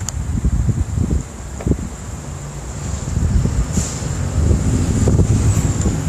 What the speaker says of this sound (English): Still a bit windy out